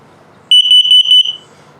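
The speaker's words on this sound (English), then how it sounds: "LP is good, carbon monoxide coming up." A carbon monoxide alarm in a 2022 Puma 289BHS travel trailer, running its demo, sounds a loud, piercing rapid series of short high-pitched beeps, about seven in quick succession, over faint background hum.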